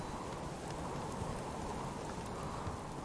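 Steady rain falls in the survival game Subsistence, a dense, even wash of broadband patter that holds at a constant level throughout with no pauses or talk.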